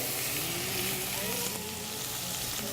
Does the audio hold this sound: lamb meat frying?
yes